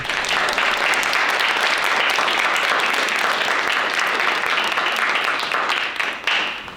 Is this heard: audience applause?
yes